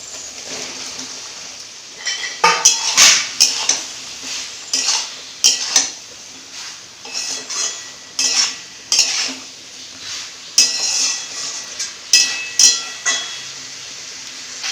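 Fried vegetables are stirred into cooked tomato masala in a pan, with repeated sharp clinks and scrapes of a spoon against the pan over a faint sizzle.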